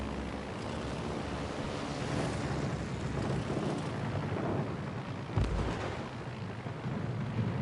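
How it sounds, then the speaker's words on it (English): Naval battle game with a rumbling wash of sea and distant booming explosions, one heavier torpedo blast standing out near the end, all at a low, muffled level. "He's going to kill me right here with more torpedoes"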